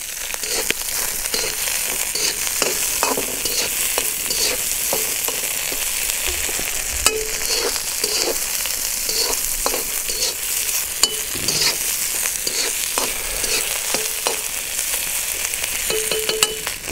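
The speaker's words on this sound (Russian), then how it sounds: "потом добавляем морковь и тоже обжариваем" Carrots fry and sizzle as they are stirred in a pot set over an outdoor charcoal grill (mangal), with a steady, close crackling hiss and the scrape of a utensil throughout, no voices.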